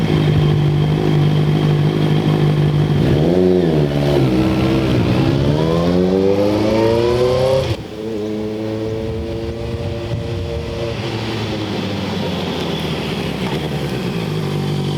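Honda CBR650R motorcycle engine starts and idles with a smooth four-cylinder hum, then is blipped through several rising and falling revs before settling back to a steady, slightly higher idle, loud and close with no talking.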